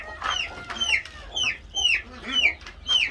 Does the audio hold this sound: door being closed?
no